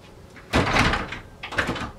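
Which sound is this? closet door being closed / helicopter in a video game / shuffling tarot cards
closet door being closed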